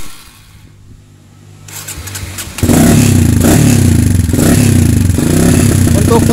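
A Kawasaki KLX 150 motorcycle engine with a PE 28 carburetor, under idle tuning, starts with a faint low hum, then jumps to a loud, steady running roar close by with a raw, clattery tone.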